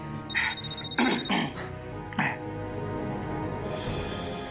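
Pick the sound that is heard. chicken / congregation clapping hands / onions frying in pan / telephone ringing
telephone ringing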